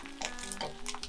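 Pot stickers sizzling in a pan right after being flipped, a close bright hiss with quick spitting crackles over about a second, no talking.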